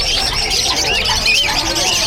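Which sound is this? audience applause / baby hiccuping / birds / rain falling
birds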